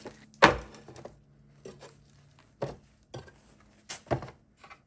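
A knife cuts through a rested loaf of sourdough with a series of separate crisp, dry crunches and thunks, spaced irregularly and close by, with quiet gaps between the cuts.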